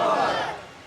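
A mosque congregation at a Muharram gathering shouts back a religious slogan in unison, a brief loud collective cry that fades quickly.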